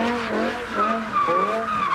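A BMW power-sliding in a street drift, loud wavering tire squeal with shifting pitch throughout, close and continuous.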